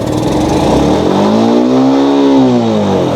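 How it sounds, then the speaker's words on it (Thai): A Honda CB150R motorcycle engine idles and then revs up with a rising, sustained throttle blip before easing back down, close and loud with no talk over it. "เดี๋ยวผมบิดคันเร่งให้ดูนะ"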